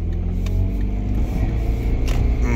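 A Lexus LS sedan pulls away, its engine note steady and fairly loud with a low rumble and mid-range hum throughout the short stretch, no voices over it.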